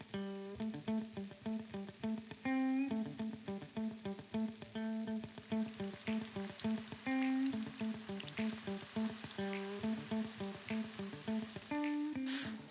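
Crispy salt and pepper shrimp fry in a hot pan with aromatics, a steady, unbroken sizzle running the whole time beneath rhythmic, tonal background music, with no talking.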